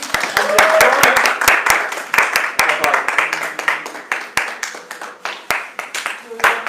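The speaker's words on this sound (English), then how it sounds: "first, applause for the winning team" A group claps for the winning team at a business mastermind workshop, a loose irregular burst of individual hand claps that gradually thins and slows, with some talk mixed in.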